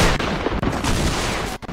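Gunfire in Fortnite comes as a loud, dense stream of shots, a sustained rattling barrage with brief gaps, close and dominant.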